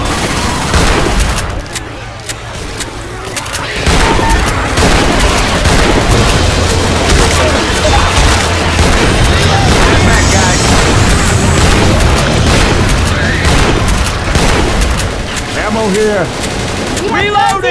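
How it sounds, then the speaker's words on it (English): Chaotic Left 4 Dead 2 firefight with continuous loud gunshots and booms, dense and overlapping, while voices shout over the shooting. "Stop shooting!"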